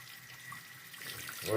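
Running tap water rinsing a diecast model car, a soft steady splashing hiss that swells louder toward the end, close by, with no speech.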